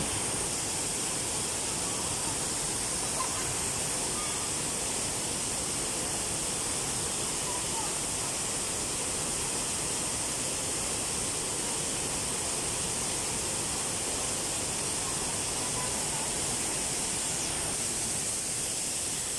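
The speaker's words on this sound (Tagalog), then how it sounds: "Titingnan natin kung ano naman ang view ng Daranac Falls" Daranak Falls, a waterfall in Rizal, roars as a steady, dense broadband rush of falling water that fills the whole stretch without pause.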